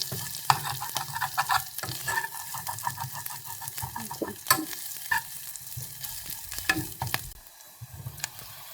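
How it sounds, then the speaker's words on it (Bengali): Onions frying on raised heat in a pan, browning with a steady crackling sizzle close by, punctuated by frequent scraping stirs and utensil taps before settling quieter at the end. "আর একটু জাল দেবো, যেন পেঁয়াজগুলো একটু লাল লাল ভাজা ভাজা হয়।"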